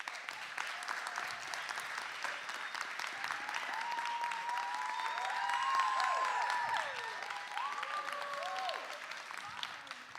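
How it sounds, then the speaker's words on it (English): Applause from an audience at a youth address event, a broad sustained wash of clapping swelling slightly midway, with faint whistles or cheering voices rising over it. "I'd like us to really give a huge round of applause to Ms."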